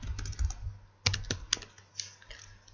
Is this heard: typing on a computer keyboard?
yes